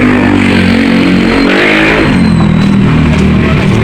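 A motorized tricycle passes close by on a clustered neighborhood street, its engine loud and revving, swelling and shifting as it goes past.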